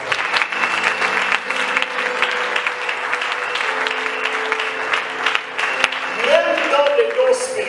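A congregation at a Sunday church service claps in sustained, dense applause, with voices calling out over the clapping throughout.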